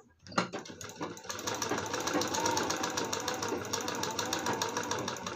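A domestic sewing machine starts after a couple of clicks and runs a fast, even stitch along a folded half-inch blouse hem, close and steady to the end.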